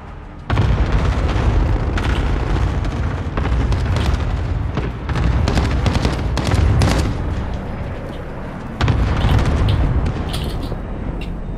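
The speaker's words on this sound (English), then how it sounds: "I just clustered their building." Repeated heavy booms from a cluster strike pounding a building in Call of Duty: Warzone, arriving in several loud rolling bursts with rumbling, crackling debris between them.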